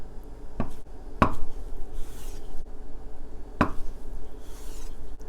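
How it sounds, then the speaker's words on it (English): A knife cuts tofu into small cubes on a cutting board, giving a few sharp, separate thuds against the board over a faint rubbing background, close and moderately loud, with no talking. "This tofu, I'm just going to cut into small cubes."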